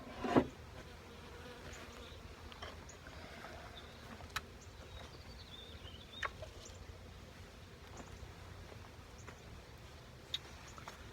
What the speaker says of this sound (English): these bees are very active